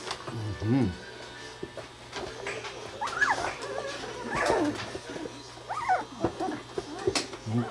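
Puppies whimper and yip in short, high, wavering bursts, some close and fairly loud, scattered through a steady low hum, with a person talking softly in between.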